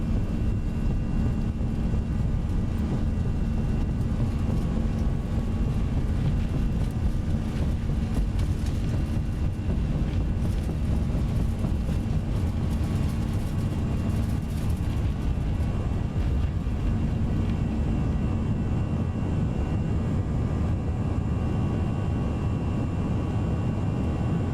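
Airbus A320 jet engines spooling on a takeoff roll down runway 21 in the X-Plane 11 flight simulator, a steady droning roar with a faint tonal whine, sustained and even throughout without speech.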